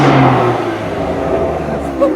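A BMW F80 M3 fitted with an aftermarket exhaust revs up close and loud, its engine roar holding steady over about two seconds.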